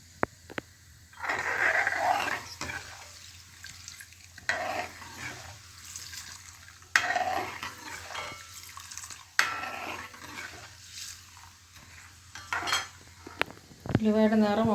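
Fenugreek and black cumin roast in a pan while being stirred, with repeated scraping strokes of a spoon, soft crackle and a few sharp metal taps against the pan.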